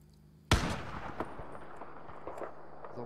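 A single loud rifle shot rings out close by during a hunt, a sharp crack that rolls into a long echoing tail across open ground, with faint rustling afterward.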